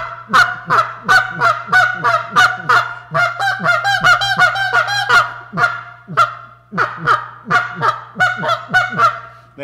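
A goose call used for waterfowl hunting imitates geese with rapid, close honks and clucks, fast sharp bursts in quick, uneven runs, some overlapping into a flurry, over a faint steady hum.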